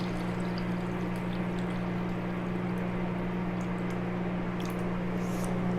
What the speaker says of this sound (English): So I'll just add the water to it up to that line.